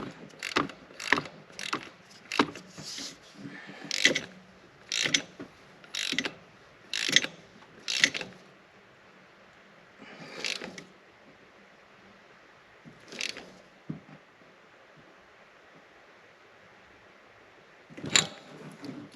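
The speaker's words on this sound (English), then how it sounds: "And that's a 14mm socket." A ratchet turns a 14mm socket, quick close rapid clicking bursts in a steady series, then sparser clicks after a pause, with no talk.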